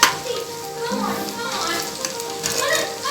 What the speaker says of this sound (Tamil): இதில் வந்து சிக்கன்லாம் ஃப்ரை பண்ணி எடுத்துக்கிறோம்